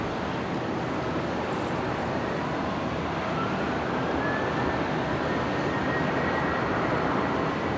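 An Airbus A319 airliner taxis at Brisbane Airport after landing, a steady distant jet-engine roar with broad rushing noise that rises slightly toward the end, with no voices.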